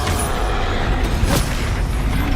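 A Confringo spell blast in Hogwarts Legacy, a loud, dense boom with a rumbling wash of noise that fills the moment and lingers without clear breaks.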